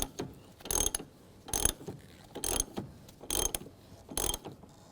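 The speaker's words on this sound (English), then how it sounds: "Now we're going to tighten this nut up." A socket ratchet tightens the strut nut on a 2012–15 Chevy Cruze front strut assembly. Five or six crisp ratcheting bursts come in an even rhythm, close and alone.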